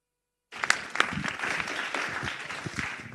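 Conference attendees applaud after a keynote at the AGI-25 event, a burst of clapping starting abruptly after brief silence, several sharper individual claps up front then an even, moderate wash of hands.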